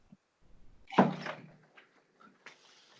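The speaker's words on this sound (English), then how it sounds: "Let me close my door." A door is pushed shut once, a single soft thud with a brief rattle, followed by a few faint handling knocks and a light click in an otherwise quiet room.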